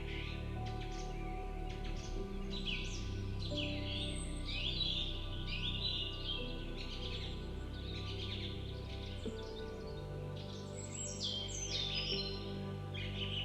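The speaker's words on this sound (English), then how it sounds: "You may hear birds or my words." Birds chirping outdoors in nature, a scatter of high, thin tweets and short calls repeating over a low steady background hum, moderately distant and fairly faint.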